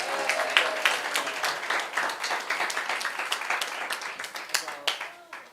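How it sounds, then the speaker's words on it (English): Audience clapping at a children's racers camp gathering, a dense steady patter of applause that runs throughout at moderate loudness, with a few sharper individual claps standing out. "Clap them again."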